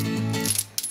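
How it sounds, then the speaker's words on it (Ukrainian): A small pile of coins poured out, giving a brief clatter of metallic clinks that lasts under a second and ends with a final jingle. "Ось, ще кучка монет."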